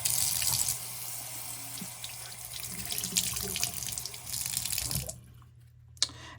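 Tap water runs steadily into a sink as a magic eraser is wetted, a close, continuous splashing flow that cuts off abruptly near the end, followed by a single faint knock.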